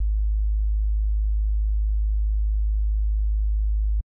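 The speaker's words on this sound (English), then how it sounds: "if we have a low frequency sine wave" A pure, low-pitched sine wave tone hums at constant loudness for about four seconds, then cuts off abruptly, with nothing else present.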